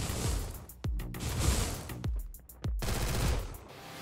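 Submachine guns fire during a video game shootout: several sharp, loud bursts of rapid shots with short pauses between them, heard close up with no talking.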